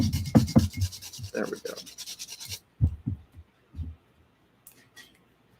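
Dried plant pieces ground down by hand, a run of close, rough rubbing and scratching strokes, then a few slower scrapes tapering into near silence, with a brief spoken remark partway through.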